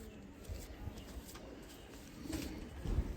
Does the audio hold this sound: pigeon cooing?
yes